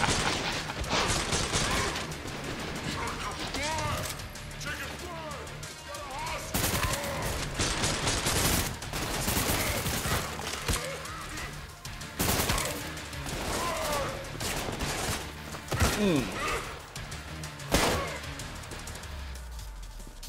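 Dense, chaotic gunfire in the shooter Trepang2, with rapid bursts and clustered shots running for about twenty seconds amid mechanical clatter and loud impacts.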